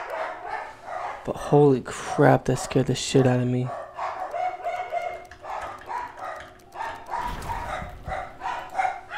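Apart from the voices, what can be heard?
dogs barking in the background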